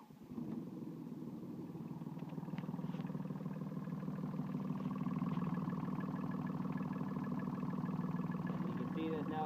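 A Komatsu 1.5-tonne excavator's diesel engine idles right after a cold morning start, a steady rhythmic clatter and low rumble holding close and even throughout.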